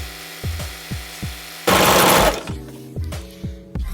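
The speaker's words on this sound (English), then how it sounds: "now I'm just gonna sew it down." A sewing machine stitching a wig, with steady rhythmic needle thumps in short runs and a brief louder whirring burst in the middle, close and clear with no talking.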